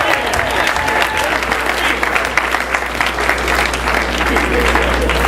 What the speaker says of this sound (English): I'd like for each and every one of you to give everyone in this room a round of applause